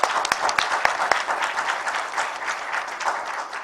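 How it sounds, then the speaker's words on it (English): A lecture audience at GCU Lahore gives Professor Shakil Jahangir Malik a round of applause, a close, full burst of clapping with a few sharp individual claps standing out, fading slightly toward the end. "Can we give him a big round of applause?"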